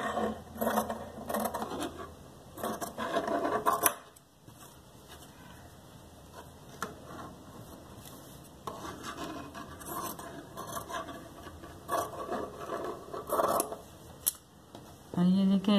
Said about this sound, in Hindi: अब मैं थोड़ा सा साइड से छोड़ छोड़ के इसको मैं कटिंग करके निकाल लूंगी।